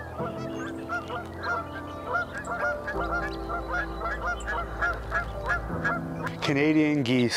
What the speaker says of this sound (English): Canadian geese, the jerks of the bird world.